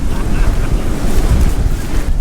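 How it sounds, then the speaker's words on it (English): Hurricane wind gusts across Lantana Beach on the Florida coast, a loud, roaring buffeting rush over the microphone mixed with crashing surf, sustained and heavy with no pause. "It lets up every now and then it picks up again."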